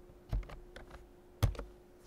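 Keys on a computer keyboard are pressed as a password is typed, a few soft, close clicks in two small bursts with a quiet pause between them.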